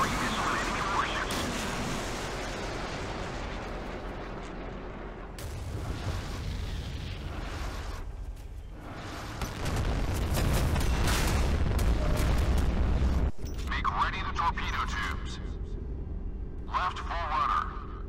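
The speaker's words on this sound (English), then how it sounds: "Firing missile at enemy warships." Missile launches and explosions from a Modern Warships naval battle game featuring a CN Type 092 submarine, with deep rumbling booms and roaring blasts that swell and cut off, heard under steady voice commands.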